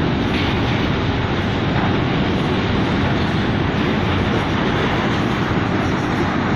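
The last cars of a passing train rumble by close and loud, a dense continuous roar with faint clickety-clack of wheels on rail joints, steady from start to finish.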